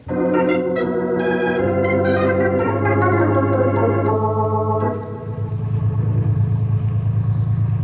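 Car engines rumble loudly and continuously as the cars are readied in a radio drama, a low steady drone with shifting tones and no talk over it.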